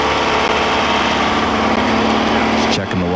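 A limited-engine desert race buggy at the 1992 HDRA American Racing 250 in Johnson Valley, California, idles loudly and steadily as it pulls into the pits, its engine note shifting near the end.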